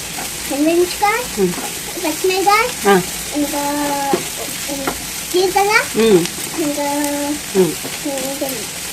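Curry leaves and garlic fry in a pan with a continuous hiss and crackle of hot oil, heard under an adult and someone talking over it.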